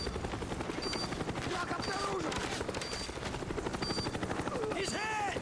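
Cobra attack helicopter in Black Ops Demolition, rotor thrum and whine running steadily beneath scattered gunfire bursts, radio-style game voice callouts and beeps overhead.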